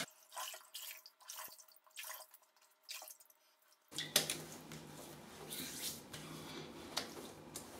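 A bathroom sink tap runs steadily as water rinses a freshly shaved face, starting after a few soft drips and splashes, then flowing continuously at close range with small splashing over the stream.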